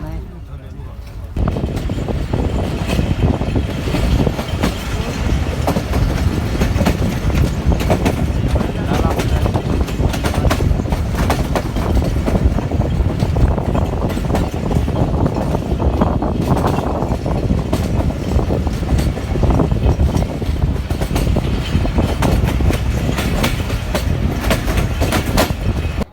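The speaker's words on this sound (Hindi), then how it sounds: "ट्रेन भी चल पड़ी है" Clickety-clack and steady rumble from a Pakistan Railway passenger train moving on the Rehman Baba Express between Sukkur and Rawalpindi, heard from inside a carriage. The rhythm is continuous and loud, with occasional talk nearby.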